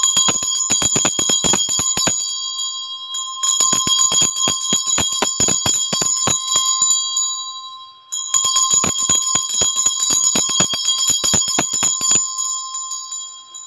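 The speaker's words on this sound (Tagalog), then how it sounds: "maggamit lang ako ng Tibetan Bell" A Tibetan bell is rung to cleanse a space, sounding in three long bursts of rapid, shimmering metallic strikes with bright sustained tones and brief pauses between, close and loud.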